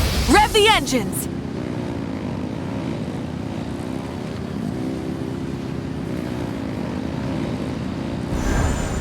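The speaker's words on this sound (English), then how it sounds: "Rev the engines!" A steady engine rumble from Genshin Impact holds under brief rising chirps at the start, then drones evenly with a wavering hum and swells slightly near the end.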